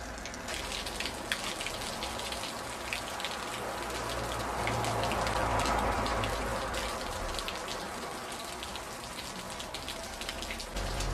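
Rain falls steadily on a street in a steady hiss of drops. It rises and falls slightly across about eleven seconds, with a low rumble underneath and no voices.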